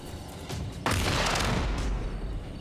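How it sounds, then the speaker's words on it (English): Grenade blasts in the tactical game Jagged Alliance: Rage: a quiet lead-in, then a sudden loud broadband boom around the one-second mark with a sustained rumbling tail and a second swell of debris noise, no talking. "what if we just throw grenades at this fool?"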